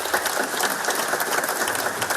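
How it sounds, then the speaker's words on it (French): A crowd of about a hundred outside the Brive town hall in Corrèze breaks into a steady burst of applause ending a minute of silence for Jacques Chirac, dense clapping filling the whole moment with no voices. "Une salve d'applaudissements met fin à la minute de silence."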